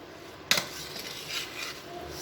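A spoon clinks sharply once against a pot of tomato bath rice, followed by softer scraping and stirring. The sounds are close and fairly quiet.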